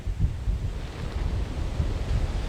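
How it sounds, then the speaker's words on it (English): Ferocious Hurricane Michael winds roar steadily about a block inland from the Panama City Beach coastline, a dense, rumbling gale battering the microphone with constant buffeting and no pauses. "some really ferocious wind hitting us right now, about a block inland from the coastline"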